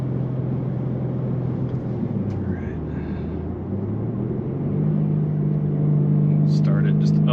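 A 2024 BMW M3 with a six-speed manual accelerates in first gear as its turbos spool. The close engine drone holds steady, then climbs in pitch and loudness, with a voice heard over it.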